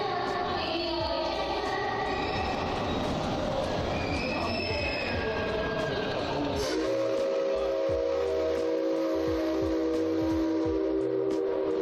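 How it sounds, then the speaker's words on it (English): A loud train whistle sounds in sustained tones over rumbling, clattering rail noise in Kagurazaka, Tokyo, then the tones level into a steady blast as wheels thump rhythmically beneath. "The train whistle's gonna be super loud in this set."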